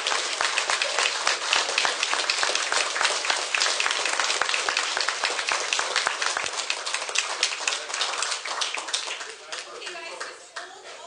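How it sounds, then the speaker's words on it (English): A crowd at a committee meeting applauding loudly, dense clapping sustained for several seconds before gradually thinning out toward the end. "How about a big round of applause for Saugeen Shores?"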